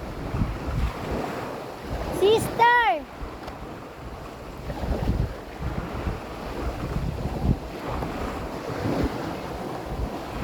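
Ocean waves wash in a continuous rush with wind buffeting the microphone; a voice shouts once briefly near the start.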